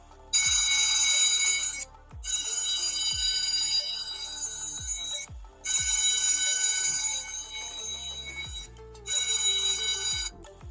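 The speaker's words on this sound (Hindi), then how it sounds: "मोबाइल का जो वो साउंड है वो चल रहा था और साउंड काफ़ी ज़्यादा आ रहा था" A mobile phone rings loudly after a find-phone command from an i9 Pro Max smartwatch, playing a bright electronic ringtone in four long bursts with short gaps and soft clicks underneath.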